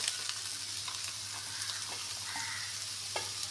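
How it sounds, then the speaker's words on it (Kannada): Chopped carrot, capsicum, beans and cabbage frying in oil in a pan, a steady broad sizzle with a few light stirring scrapes, close and continuous with no voices. "ಸ್ವಲ್ಪ ಫ್ರೈ ಆಗಲಿ, ಸ್ವಲ್ಪ ಎಣ್ಣೆಗೆ."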